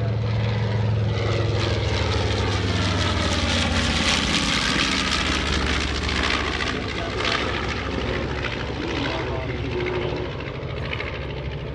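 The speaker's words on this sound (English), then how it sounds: "the B-25J that you see flying, leading this formation" B-25J bomber aircraft flying overhead in formation with other World War II bombers at an airshow, a loud, continuous roar of piston engines and propellers that swells and fades slightly, with talk faintly beneath.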